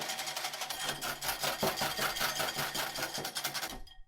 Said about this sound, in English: So there's 200 grams of cream. We're going to whisk this up.